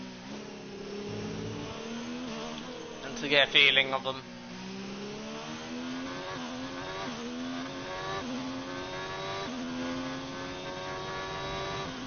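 A Ferrari Formula 1 car in F1 2019 screams through its gears on a hot lap of the China circuit, the engine note rising and dropping with each shift, with a short sharp burst partway through and a voice talking over it.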